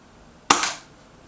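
A Reximex Mito S air rifle fires a single sharp shot at a target, a loud crack with a short decaying tail and no other sound around it.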